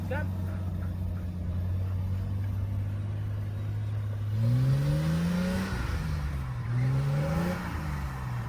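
A Nissan Patrol fitted with a TRE locker, in low range, revs its engine while climbing over a tree, a steady idle hum rising into two pitch-climbing revs. Someone talks over it.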